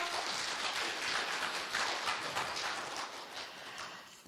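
Sustained, dense applause from an audience at a Rotary club gathering, filling the room evenly at steady loudness with no voices over it.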